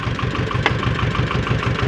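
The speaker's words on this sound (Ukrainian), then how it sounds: "Добре, зараз запригуємо в трактор." A Yuto 180 mini tractor engine idles close by on a misty morning before ploughing alfalfa, giving a steady, loud, rhythmic low chugging with a brief click partway through.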